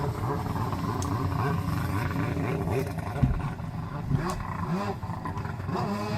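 A freestyle personal watercraft engine revving on a reservoir at about 5,500 feet elevation, a steady loud roar that rises and falls in pitch as the throttle changes, heard from a moderate distance.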